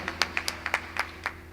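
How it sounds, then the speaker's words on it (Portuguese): Scattered, faint handclaps from a church congregation, a handful of sparse uneven claps heard at a distance. "Aplauda a palavra de Deus."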